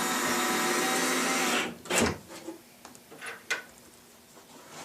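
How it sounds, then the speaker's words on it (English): A power driver sets screws into a Forevermark lazy Susan cabinet during assembly. A steady whirring burst comes first, followed by a few separate clicks and knocks at close range. "set a couple screws."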